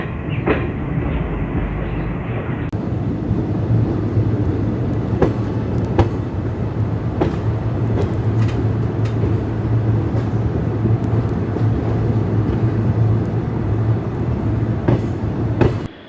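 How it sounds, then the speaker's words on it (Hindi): The Barmer Rishikesh festival special train runs steadily on the rails, a loud continuous rumble with repeated clicks and clatters of wheels over rail joints throughout, no voices heard. "यहाँ पे हमारी ट्रेन करीबन 10 से 13 मिनट बिफोर आ गई है"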